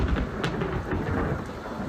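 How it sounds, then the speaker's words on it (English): Thunder rumbles through heavy rain during a storm in Compton, a loud continuous roar of downpour with low rolling booms and no voices. "one resident in Compton who was startled by the thunder and lightning"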